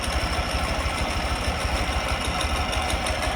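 A 2004 Ural Tourist motorcycle engine runs close by in a steady, throbbing idle with a regular low pulse and no voices over it.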